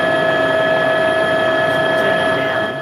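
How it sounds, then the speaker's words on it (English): A helicopter drones steadily overhead above a beach with shops, a loud continuous engine hum with sustained rotor and turbine tones and no talk. "I don't like the chopper noise."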